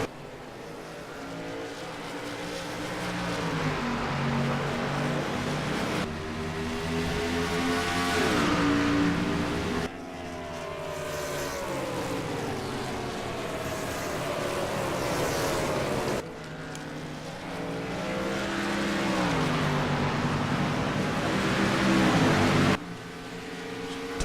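Race cars lapping the track during a Friday Night Series feature race at New Hampshire: loud engines roar past in repeated waves, pitch rising and falling as cars approach and recede, with steady high-revving drone between passes.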